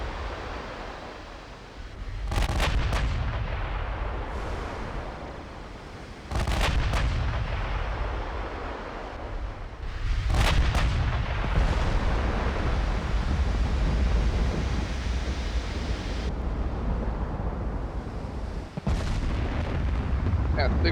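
Naval guns firing in the warship video game Ultimate Admiral Dreadnoughts: several loud, booming salvos at irregular intervals, heard over a continuous rumbling sea-battle background.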